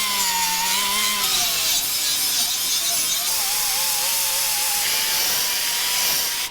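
Welds on the sheet metal of a 1976 AMC Pacer are ground down in a steady, loud, continuous rasping grind with a high metallic whine that holds nearly unbroken throughout.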